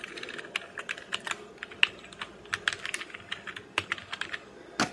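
Keystrokes on a Mad Catz V5 gaming keyboard after about eight months of use, rattling out in quick uneven bursts of close, crisp clicks, fairly quiet and with no voices over them.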